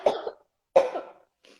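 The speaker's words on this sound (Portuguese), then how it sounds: "eu vou ter que tossir de novo" Two harsh, close coughs in quick succession, then a faint trailing breath, with silence in between.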